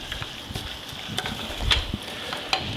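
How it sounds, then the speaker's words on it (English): Couscous is stirred into cooked vegetables in a pan, giving soft scraping and shuffling strokes with faint sizzling and a few sharper clicks of the utensil, close and fairly quiet, with no talking. "I'll mix my couscous in it."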